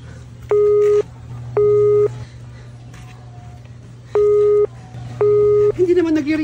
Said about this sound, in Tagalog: Hindi naman nagre-ring, Nena.